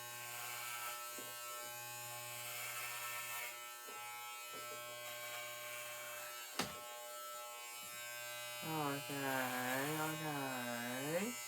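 Electric hair clippers fitted with a number 12 guard buzz steadily while cutting hair, pausing briefly a few times, with a voice making a wavering sung or hummed sound over the buzz near the end.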